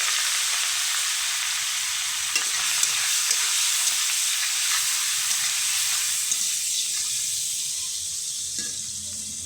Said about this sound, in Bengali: এই বা চিংড়ি মাছ কটা ভেজে নেব